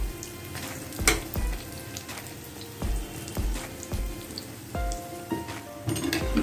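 Medu vada, urad dal fritters, frying in hot oil, giving a steady close sizzle with crackling bubbles and a few sharp pops and clinks throughout; no one speaks.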